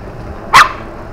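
A single loud dog bark, close by and sharp, standing out against quiet outdoor background noise.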